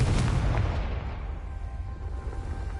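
An explosion from the Confringo blasting spell in a wizarding video game: a deep boom that hits loud at the start and then rumbles and fades away over a couple of seconds.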